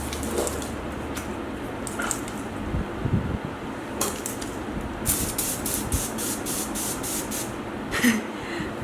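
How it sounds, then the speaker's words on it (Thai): Short hissing bursts of mineral water facial mist sprayed onto skin over makeup, several quick pumps in a row, close and fairly quiet, with a few soft handling clicks between them. "ด้วยน้ำแร่นิดนึงเดี๋ยวจะฉีดฉีดแล้วก็ลองให้ดูกัน"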